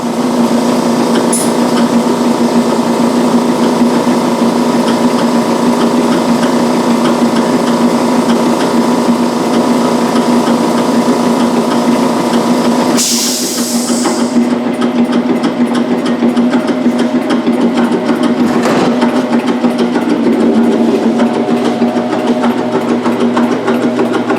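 An On Site Gas Systems NFS-3-T nitrogen generator runs loudly with a constant mechanical hum and drone, then a sharp hiss of released gas bursts out partway through before the machine keeps humming.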